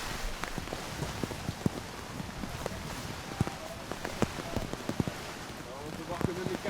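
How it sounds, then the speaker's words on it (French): Heavy, steady rain pours down on a rugby match in Bordeaux, a dense wash of hiss with scattered thuds and splashes, while a commentator's voice runs over it. "Et la pluie qui ne s'arrête pas, hein, la pluie qui redouble même."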